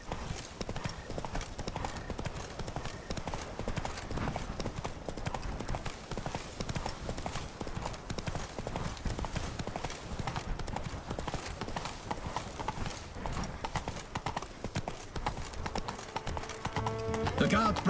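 Roach, a horse in the video game The Witcher 3: Blood and Wine, trots with steady clip-clopping hooves throughout, joined by game ambience and speech-like sounds.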